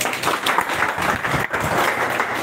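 A seminar audience of security-camera installers in Lahore breaks into short, lively clapping with a dense patter of hands and a brief dip midway.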